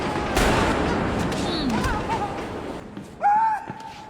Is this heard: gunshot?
yes